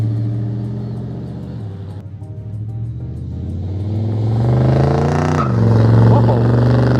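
A 1951 GMC panel van engine rumbles steadily nearby, swelling louder as it approaches and passes, with a low droning tone throughout.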